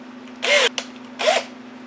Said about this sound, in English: I'll take my drill